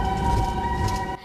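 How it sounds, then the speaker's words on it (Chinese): Ambulance sirens wail through a city street after a major earthquake in Japan, one loud, steady tone that holds unbroken and then cuts off abruptly. "救护车鸣笛声更是不绝于耳"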